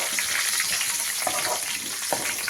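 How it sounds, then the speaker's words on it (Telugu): Curry leaves fry in hot oil with onion in a pan for black pepper rasam, a loud close continuous sizzle and crackle with a few small pops, no voices. "ఇది కరివేపాకు అలా ఫ్రై అవుతుంది."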